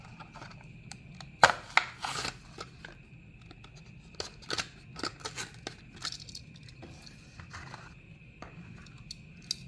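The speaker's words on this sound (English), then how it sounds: "So let's unbox and see how it looks." Unboxing a 2023 Hot Wheels Drag Strip series Ford Mustang Mach-E 1400 toy car: sharp scattered snips, tears and crinkles of packaging, close and quiet, in irregular bursts over a faint background hum.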